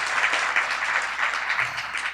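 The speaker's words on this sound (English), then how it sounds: "let's give Larry another real big round of applause" An awards-ceremony audience gives sustained applause, a continuous wash of many hands clapping at an even loudness throughout, with no talk over it.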